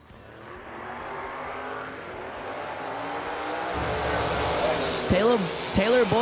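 Drag race cars, a Henry J and a Camaro, launch and roar off the line at a footbrake event, engine noise building steadily with sharp revving sweeps near the end under a commentator's voice.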